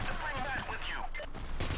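Rapid bursts of gunfire from the heist shooter game Payday: The Heist, a busy fusillade of shots mixed with other game noise, held at a moderate level for the whole short stretch.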